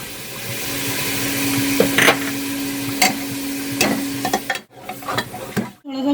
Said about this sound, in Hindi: थोड़ा सा गोश्त भून लिया